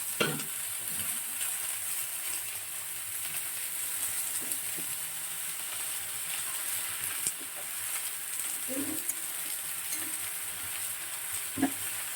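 Fresh spinach fries in a pan with a soft, steady sizzle and occasional faint utensil taps, fairly quiet and unbroken, with no talking.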